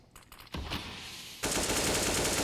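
Spammed automatic gunfire in Counter-Strike: Global Offensive during a match on a window position, a few quick shots then a loud unbroken burst of rapid fire that swells and holds to the end.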